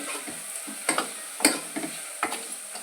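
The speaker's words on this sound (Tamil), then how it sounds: "காளான் வதங்கிடுச்சு" Sliced mushrooms fry in a pan for mushroom biryani, giving a steady close sizzle broken by a few sharp scraping stirs of the spoon. No one speaks.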